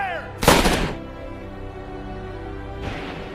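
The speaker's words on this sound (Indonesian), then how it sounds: "Fowler menembak Green beberapa kali dengan pistol cadangan yang ia bawa" Two loud pistol shots ring out in a film scene, a sharp close blast followed by a decaying tail, then a second, slightly softer report about two seconds later.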